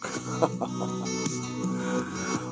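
A chicken clucks in short, irregular bursts against a constant harmonic background, one bird heard fairly close in a rural Ilocano setting.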